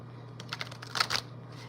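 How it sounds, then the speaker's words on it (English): A tarot deck being shuffled by hand gives a few soft, papery riffling bursts close by, over a steady low hum, with no talking. "Alright, I'm shuffling. Every day I'm shuffling."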